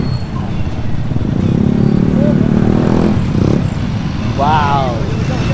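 A motorcycle carrying several riders travels through traffic, its engine droning steadily up close under wind, with a rising whine partway through and a voice briefly heard over the ride.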